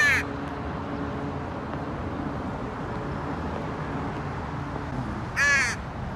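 A crow cawing at the Guadalupe River Park in San Jose, with one short caw at the start and another louder one near the end over steady outdoor background noise.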